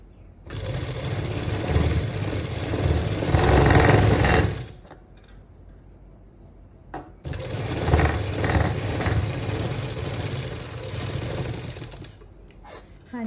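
A sewing machine stitches a pintuck into fabric in two bursts of rapid, even whirring and clatter, separated by a quiet pause and close to the listener.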